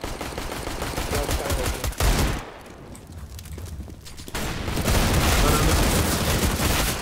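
Dense, loud bursts of rapid gunfire in the video game CS:GO crackle almost continuously, dip briefly into a quieter stretch, then surge back with heavy shooting.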